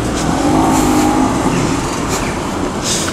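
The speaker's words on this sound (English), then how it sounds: "And there's the M4 parking up." A BMW M4 rolls in to park among other sports cars, its engine a close, steady rumble with a low drone running through the short clip, and no talking.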